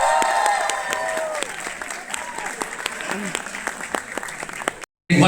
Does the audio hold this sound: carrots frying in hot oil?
no